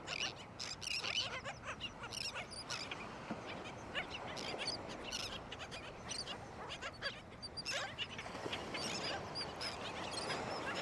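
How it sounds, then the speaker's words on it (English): A flock of beach birds on Lido Beach, Sarasota, calls continuously, with overlapping honks and squawks at moderate distance, alone with no talking. "These are the birds."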